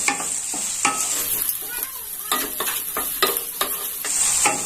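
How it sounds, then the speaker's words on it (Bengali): Prawns sizzle steadily in a hot pan while a utensil scrapes and stirs in repeated strokes, close up, with no talking. "এবার এটাকে আমি ভালো করে একটু ভেজে নেব, সামান্য লাল করে।"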